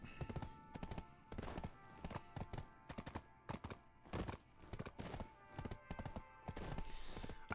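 Steady clip-clop of a horse's hooves while riding in the video game Black Desert Online, a brisk, evenly paced run of hoofbeats close by, with a faint whinny and light game sounds around it.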